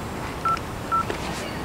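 A telephone is dialed: two short, clean keypad tones sound about half a second apart, clear against quiet room background.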